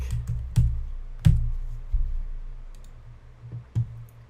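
Code being typed on a computer keyboard during a programming lesson on switch statements: scattered sharp key clicks and a few louder keystrokes at an irregular rhythm, close by, with no speech.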